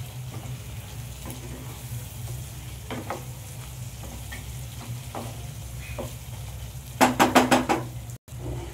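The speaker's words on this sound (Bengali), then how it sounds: "দিয়ে আবারও আমি চিকেনের সাথে টমেটোটা ভালো করে ভুনে নেব" Chicken and tomato fry in a pan with a low continuous sizzle, punctuated by occasional soft clinks and then a quick series of loud scraping stirs near the end.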